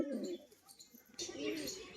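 A male pigeon with a white and green crest coos in two short, throaty bursts nearby, fairly quiet, with a brief pause between them.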